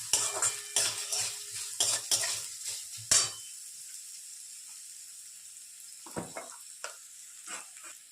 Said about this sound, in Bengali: এবারে আমি এটা নেড়ে নিচ্ছি একবার